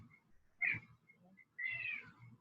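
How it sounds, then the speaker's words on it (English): A small house cat gives two close, clear meows, one short and one longer and rising, over a quiet indoor room. "You want to work out too, little kitty?"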